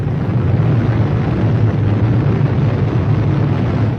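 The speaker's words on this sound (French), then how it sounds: "La bombe atomique est née." The July 1945 atomic bomb test in the New Mexico desert, a sustained deep rumbling roar, loud and dense with low-end power, holding steady before easing slightly at the end.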